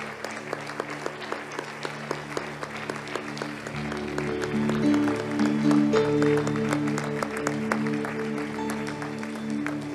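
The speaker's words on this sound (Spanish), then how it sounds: "Débele un fuerte aplauso al Señor." A church congregation claps loudly during a Sunday service. The applause swells and continues over sustained keyboard chords and music, with sharp individual claps standing out near the front.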